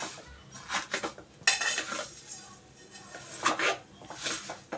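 A spoon scrapes and clinks against a pan as fine vermicelli roasts in ghee over a low flame, with irregular metallic stirring knocks and a soft rustle of the strands.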